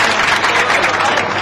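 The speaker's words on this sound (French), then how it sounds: "Applaudissez s'il vous plaît." Audience at a memorial tribute gathering applauding steadily, a dense continuous wash of clapping hands filling the whole moment without pause.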